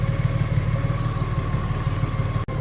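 A Honda Goldwing touring motorcycle engine with a dead battery runs steadily nearby with a low, pulsing rumble and a faint clatter, briefly cutting out near the end.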